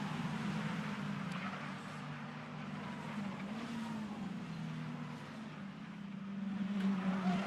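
Race cars in a 1600s series sweep through the Brands Hatch circuit, a sustained engine roar that swells and fades as the pack passes, heard at some distance with faint tyre noise.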